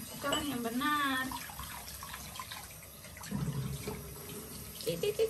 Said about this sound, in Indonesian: cuci tangan yang benar